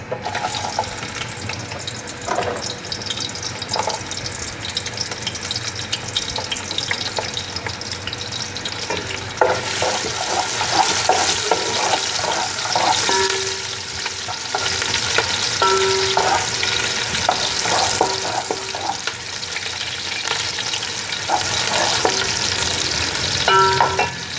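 Onions fry in about a cup of oil in a large pot for Sindhi pulao biryani. A soft, even sizzle swells into a louder, busier crackle partway through, with occasional stirring clinks.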